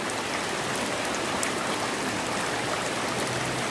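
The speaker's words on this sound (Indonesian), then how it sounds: "soalnya takut banjir ya, karena ini sedang hujan lebat ya" Heavy rain pours beside a small roadside ditch during an eel fishing trip, a dense, constant wash of hiss and rushing water filling the whole stretch without a break, close and loud, with no voices.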